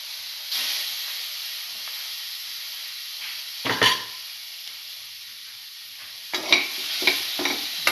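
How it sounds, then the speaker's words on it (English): Tomato pieces sautéing in a pan for a cinnamon soy chunk bowl give a steady soft hiss and sizzle, broken by a few louder stirring scrapes near the middle and toward the end. "Saute the tomato pieces thoroughly."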